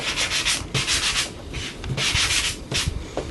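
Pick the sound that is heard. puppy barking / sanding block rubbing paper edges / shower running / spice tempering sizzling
sanding block rubbing paper edges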